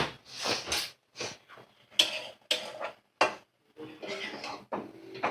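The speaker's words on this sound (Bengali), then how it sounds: "এইবারে আমি হালকা নাড়াচাড়া করে নিয়ে কিছুক্ষণ ঢাকা দিয়ে রাখবো" A spoon stirs chicken curry with sour curd in a metal pot, giving a string of quiet, irregular clinks and scrapes separated by short silences.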